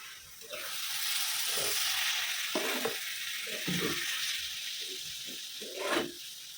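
Eggs frying in a pan with a broad hissing sizzle for dim posto, broken by intermittent scraping and stirring sounds and a louder burst near the end.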